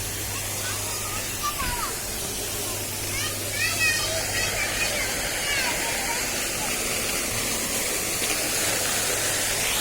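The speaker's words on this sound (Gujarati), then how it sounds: "ફુવારાનું ડેકોરેશન પણ એક નંબર છે" Steady splashing of a decorative water fountain at a temple, a broad continuous wash of falling water close by, with voices in the background.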